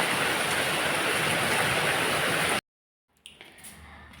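Heavy rain roars loud and even for over two seconds, then cuts off abruptly to near silence before faint, scattered noise returns.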